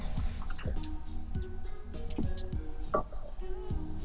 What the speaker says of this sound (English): we're going to scramble up an egg